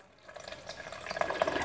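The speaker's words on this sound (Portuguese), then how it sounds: "Aí vamos colocando mais um pouco de água." Water poured into a blender jar while making jenipapo juice, a gurgling splashy stream that builds from quiet to louder over a second and a half, close up and without speech.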